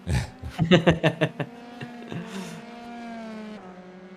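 Race car engine in the iRacing sim during an F3 race at Barcelona: a series of sharp revving bursts early on, then a steadier sustained engine drone, heard up close.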